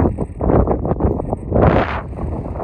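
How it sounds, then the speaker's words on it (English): Wind buffeting a microphone outdoors at a roadside filming location, heavy low gusty rumble rising and falling in bursts, with one stronger blast near the end. "Oh boy, it was windy."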